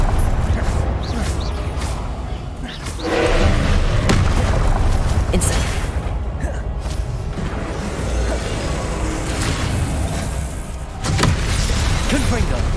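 Confringo and Expelliarmus spell blasts cast over and over in the video game Hogwarts Legacy, a steady run of loud booming bursts and crackling impacts over dense battle noise, with voices in the mix.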